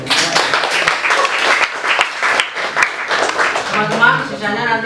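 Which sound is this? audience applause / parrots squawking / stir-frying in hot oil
audience applause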